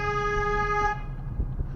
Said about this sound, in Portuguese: Buzina, buzina, buzina.